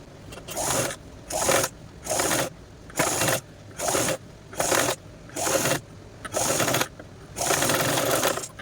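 Sewing machine stitching pieces of old denim jeans, running in about nine short bursts of rapid mechanical whirring separated by brief pauses, close and fairly loud with no talk.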